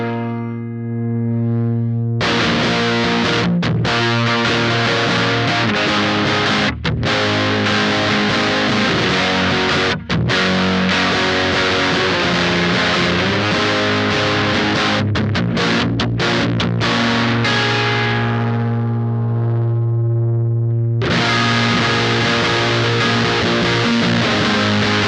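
An electric guitar runs through an Electric Love Aquatone pedal with the gain pushed high, giving loud, thick, sustained distorted chords that ring in long held sections broken by brief choppy gaps and a fade before the sound returns.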